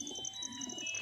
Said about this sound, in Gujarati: આવી ગયા કબૂતર.